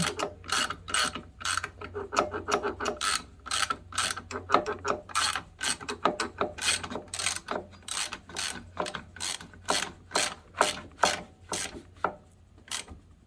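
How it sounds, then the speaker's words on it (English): Rubber belt coupling on an Onan 5500/7000 generator turns and rubs against a plastic piece, giving a steady run of sharp ratcheting clicks and scraping ticks, close and fairly loud, with no voices. "You can hear it rubbing slightly on that plastic piece"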